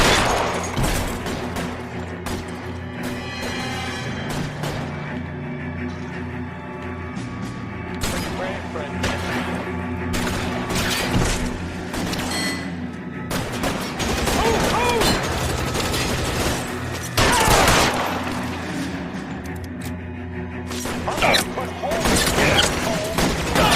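Gunfire in the video game L.A. Noire, a dense run of shots and bursts over a continuous game soundscape, with people talking across much of it.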